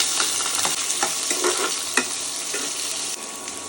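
Onion and garlic fry in hot oil with mustard seeds, cumin and lentils, giving a bright continuous sizzle with stirring scrapes and small pops close by.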